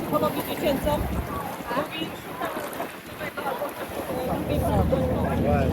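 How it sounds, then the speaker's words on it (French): Strong gusty wind buffets the microphone while surf rumbles beneath on a beach in Malta, and people chat in the middle of it all. "il y a beaucoup de vent, du coup là, il y a les vagues"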